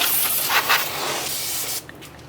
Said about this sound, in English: now we're going to spray it down